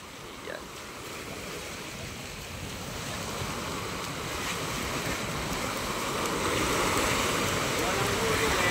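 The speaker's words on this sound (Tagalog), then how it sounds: "Lumalakas na naman nating dagat mga kamay." Ocean waves building in strength along the shore by a fish terminal in Tanza, Cavite, with a continuous broad surf roar and wind rumble that grows steadily louder over several seconds.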